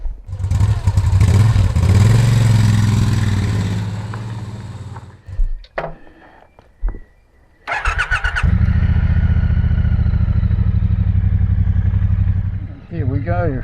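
A motorcycle is ridden with loud steady engine drone up close, briefly dropping and idling before revving back up and pulling away, with a voice speaking briefly over it.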